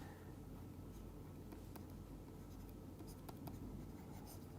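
Writing during a lecture, faint scratchy pen or chalk strokes in quick irregular bursts over a continuous hiss of room noise, with no talking.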